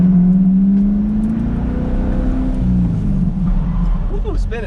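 A Chevrolet C8 Corvette revs hard and spins out, its engine drone loud and close with a shifting pitch over several seconds, and a person is talking over it.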